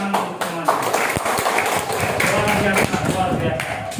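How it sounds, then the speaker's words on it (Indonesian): A class of sixth-grade pupils in an Islamic studies lesson claps together in a dense, lively burst of hand claps, steady throughout with a few sharper slaps standing out, close and fairly loud with classroom murmur underneath. "tepuk tangan untuk semuanya."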